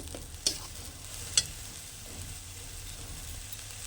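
Salt, turmeric powder and spices being sautéed in a pan for a Bengali fish curry, with a faint steady sizzle and two brief spoon scrapes against the pan.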